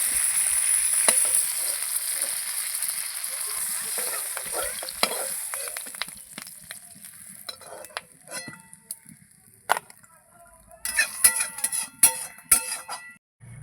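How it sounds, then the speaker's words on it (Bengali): Rohu fish belly pieces fry in hot oil in a kadai, giving a loud, steady sizzle that later thins into sparser crackles, with several sharp metal clinks of a utensil against the pan near the end. "তাহলে আমার মাছ ভাজা হয়ে যাবে"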